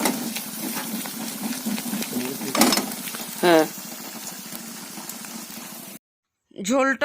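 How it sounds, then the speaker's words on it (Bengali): A pot of water boils on a kitchen stove with a continuous bubbling hiss, brief voices break in over it, and near the end it cuts out before resuming. "ওদিকে ফুটছে"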